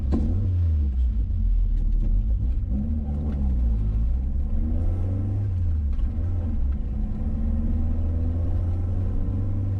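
A Peugeot 205 GTi Clubsport pulls away, its engine a loud, continuous close-up rumble that rises and falls through gear changes for about ten seconds, with no talking.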